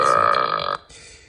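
The cartoon cat in the mobile game Talking Tom lets out a loud, close burp lasting under a second, followed by quiet game background sound.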